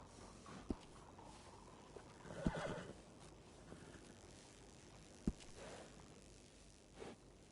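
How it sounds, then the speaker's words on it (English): A horse in a PS4 video game gives faint whinnies and neighs while being groomed, along with a few soft clicks and thumps over a quiet background. "grooming a horse sure makes it a beaut."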